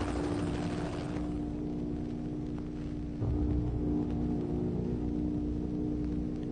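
Helicopters flying over a crowd during a revolution-era street clash give a steady, heavy rotor drone that fills the background without letup.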